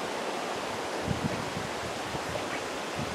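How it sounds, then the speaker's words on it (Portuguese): A strong stream rushes beneath a wooden footbridge, a broad steady roar of moving water with a few heavier low surges, close by and without voices. "Vou mostrar aqui que a água está passando aqui"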